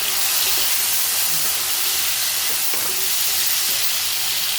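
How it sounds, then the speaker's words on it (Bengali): Potatoes frying in oil with salt and turmeric, a loud, continuous sizzling hiss held steady from start to finish, with no talking. "আলুটা ভাজার সময় আমি একটু নুন দিয়ে দিই অল্প একটু হলুদ দিয়ে দিই"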